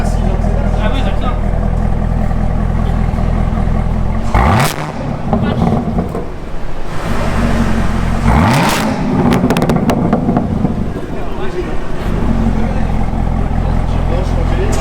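Chevrolet Camaro ZL1 V8 engine accelerating hard, a loud close roar with two sharp revving surges, while people talk in French inside the car.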